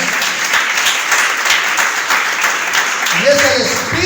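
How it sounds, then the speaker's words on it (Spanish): A church congregation applauding during a Spanish-language sermon, steady, loud clapping from the crowd that continues until a voice starts speaking over it near the end. "Dale un aplauso a Jesucristo."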